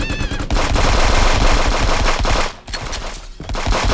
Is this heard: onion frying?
no